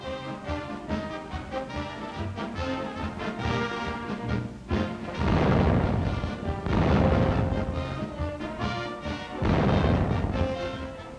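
Artillery guns fired by cadets at a West Point demonstration let out heavy booming blasts, with several big bursts after a stretch of orchestral music, loud and broad.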